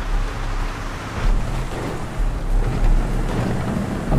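A vehicle ploughs through river water in GTA 5, a steady rushing, surf-like wash with low rumble that surges in waves over a few seconds, close and loud with no talking.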